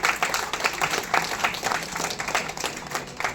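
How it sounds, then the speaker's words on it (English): Loud audience applause at the Oracle APEX UTSAV 2024 event, a crowd clapping in a fast, pulsing rhythm that carries steadily throughout. "Let's give a big clap."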